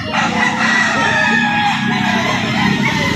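A rooster crows at a poultry market selling various chicken breeds in Lipa City, Batangas, one drawn-out call rising over a steady crowd murmur and other fowl clucking nearby.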